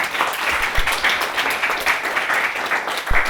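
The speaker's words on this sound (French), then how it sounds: "On peut vous applaudir hein, encore une fois." A municipal council meeting audience gives steady, moderately loud applause for newly elected council members, continuous clapping throughout.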